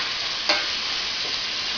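Onions, celery and bacon cook together in a pan for clam chowder, giving a steady, close sizzle and fry hiss with a brief stir clink partway through and no talking.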